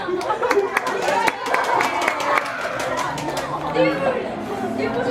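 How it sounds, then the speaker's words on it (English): An indoor audience at a music venue claps and cheers in scattered bursts, the sharp claps mixed with crowd chatter and voices talking over the applause. "Give her a big round of applause."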